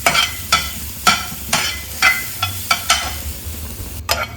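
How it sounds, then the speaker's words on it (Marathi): A pan with onion being dry-roasted without ghee, a utensil stirring it in a steady run of sharp scraping strokes about every half second, close and loud with a soft sizzle underneath. "आता आपण इथे कांदा भाजायला ठेवलेला आहे हा नुसतं भाजूनच घेते मी"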